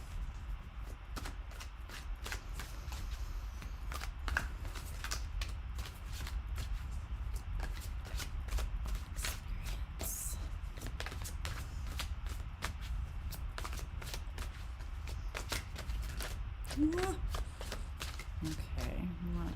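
Tarot cards are shuffled steadily and close by through the whole stretch, a continuous papery riffle with repeated sharp flicks over a low background hum.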